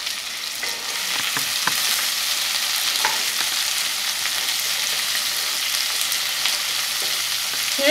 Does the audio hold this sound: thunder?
no